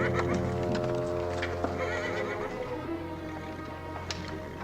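A horse whinnies close by in a frontier setting, its wavering neigh carried over a steady background murmur, with faint hoof and tack noises and no clear talk.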